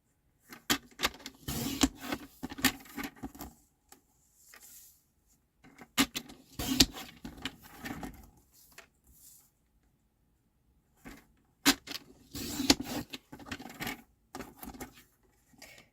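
A blade trimmer slices down a sheet of stamped cardstock for a fancy fold card, giving bursts of short scraping, clicking strokes with quiet gaps between them, close and fairly soft, with no talking.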